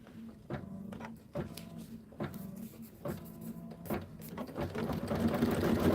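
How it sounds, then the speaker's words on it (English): An embroidery machine stitches a tree placement line, producing close, rhythmic pulses of motor hum and needle tapping that repeat roughly every second and build into a denser, louder whir toward the end. "Now we're going to stitch the tree placement line."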